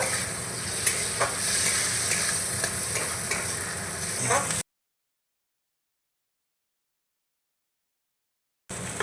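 Melted tomatoes with turmeric and chili powder stirred in a sizzling pan, scraping strokes over steady frying hiss for a few seconds, then silence before the sizzle briefly returns.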